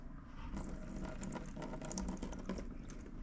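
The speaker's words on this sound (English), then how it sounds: "If you look when I pour it out." Old, stale fuel pours out of a Masport lawn mower tank in a steady, close liquid splash and trickle that runs for a few seconds.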